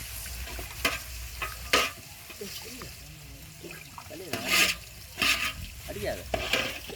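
Rice being stirred into fried onion and salt in a pot at a large outdoor feast cooked with friends, with scraping stir strokes and intermittent sizzling bursts over a steady low background rumble, and faint voices nearby.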